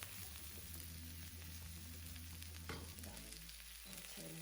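Button mushrooms cook in a pan with a soft, steady sizzle and light stirring underneath, faint and continuous, with a low hum shifting partway through.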